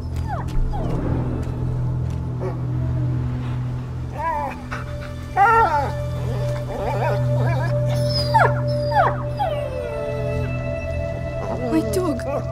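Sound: dog whimpering and howling in video game A Plague Tale: Innocence

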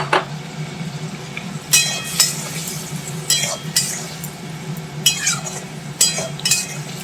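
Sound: potatoes and squash being stirred and sautéed with spices

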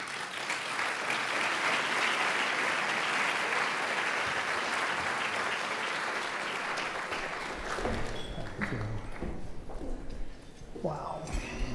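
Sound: audience applause welcoming Jeff to the podium

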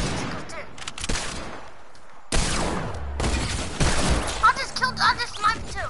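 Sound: sniper rifle gunfire from a video game

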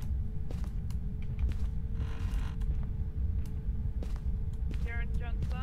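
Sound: door creaking open in Phasmophobia video game

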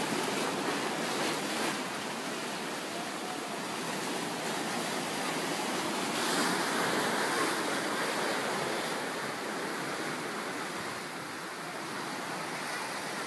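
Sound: ocean waves breaking on a beach

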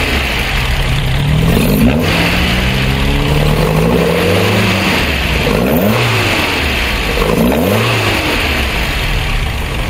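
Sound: Alfa Romeo 105 Giulia engine revving

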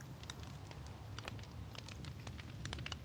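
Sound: rain falling in the video game Minecraft

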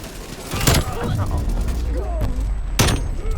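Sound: EM2 rifle gunfire and reload in Call of Duty video game

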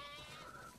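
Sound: sheep bleating in video game The Last of Us Part II

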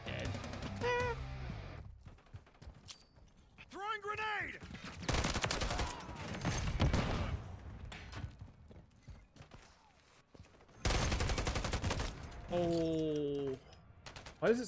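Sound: gunfire in Call of Duty MW3 video game

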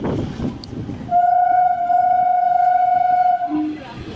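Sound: train departing Sonpur station

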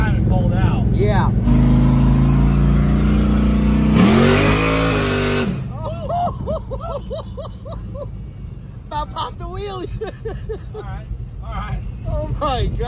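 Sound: 632 cubic inch shop truck engine revving at drag strip

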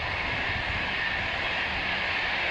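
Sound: train passing

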